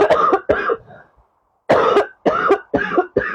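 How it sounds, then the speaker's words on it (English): A woman coughs several times in quick succession, close and fairly loud, with a short gap after the first pair before three more sharp coughs follow. "now I'm going to cough."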